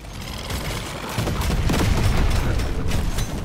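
Turrets and a laser firing in the Deep Rock Galactic Survivor video game, a dense continuous barrage of rapid shots and blasts, loud and busy, building slightly halfway through.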